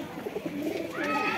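Pigeons at a shop selling desi, Madrasi and Punjabi breeds coo in low, throaty rolling calls, several birds overlapping close by without talk.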